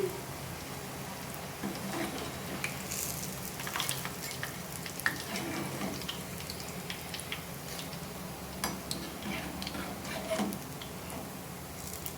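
Soya chunk pakodas frying in hot oil, a soft continuous crackling sizzle with scattered small pops, fairly faint and steady throughout, without talk.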